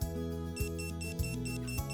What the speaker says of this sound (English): When the shade beeps, you'll know your remote is in programming mode.